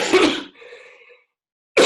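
A man coughs twice in short, harsh bursts close to the microphone, separated by a brief wheezy breath and a moment of silence.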